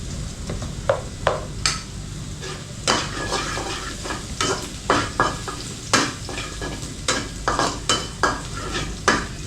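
Food sizzles steadily in a pan while a utensil scrapes and stirs in irregular clacks, close and busy throughout.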